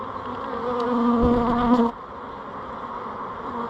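Close, droning buzz of honeybees around an open hive, loud and steady for a couple of seconds, then dropping to a fainter hum.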